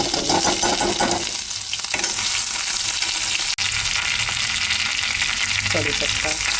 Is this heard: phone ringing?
no